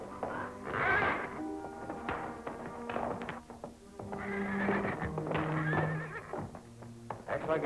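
A horse whinnies loudly up close, a shrill rising cry with harmonic squeals, followed by stamping and snorting while someone speaks nearby; the horse is said to have been driven crazy by loco weed.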